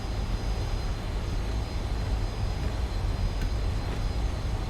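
A Fokker 28 airliner taxis in a flight simulator game, giving a steady, unbroken roar of jet engine noise that stays loud and even throughout, with no talking.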